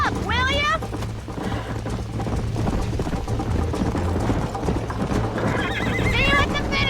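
Horses gallop with rapid, continuous hoofbeats and whinny loudly at the start and end during a horse race in the video game Red Dead Redemption, while characters shout over the action.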